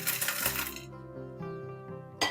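Roasted whole spices for garam masala tumble onto a plate with a bright clattering rush, followed by a metallic ringing that slowly fades, then another brief rattle at the end.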